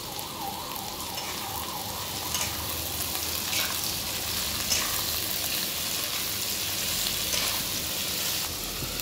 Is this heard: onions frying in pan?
yes